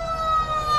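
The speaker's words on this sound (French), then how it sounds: "on entend un camion de pompiers qui passe" Fire truck siren passing through traffic near an accident, a steady wailing tone held loud and continuous over road rumble for under a second.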